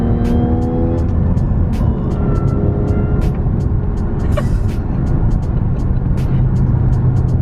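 A supercharged Audi tow rig drives with a loud, steady engine drone and road roar up close, with a short whine partway through and no clear speech.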